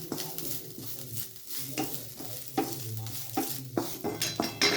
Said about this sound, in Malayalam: ഇത് നല്ലോണം വറുത്തെടുക്കാം.